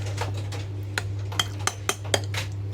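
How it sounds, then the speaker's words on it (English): A spoon stirs Greek yogurt, cucumber and mint together in a bowl, with soft wet scraping and several light clinks of metal against the dish, close and quiet over a steady low hum, with no speech. "you just mix it all together"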